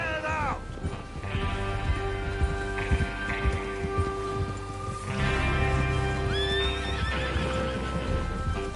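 Horses neighing and whinnying with hoofbeats clip-clopping beneath, from the Red Dead Redemption 2 video game, steady and fairly loud throughout, with rising whinny calls standing out near the end over background game ambience and music.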